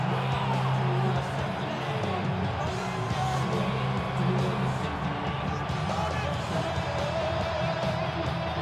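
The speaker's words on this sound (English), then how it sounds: "Well, this crowd doing their best to make a lot of racket." Stadium crowd noise in the Madden 26 football video game, a constant distant roar of cheering and whooping that fills the background for several seconds, with no clear talk over it.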